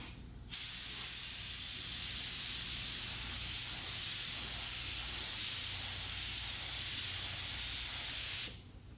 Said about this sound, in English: I'm just going to put it up while I'm spraying it.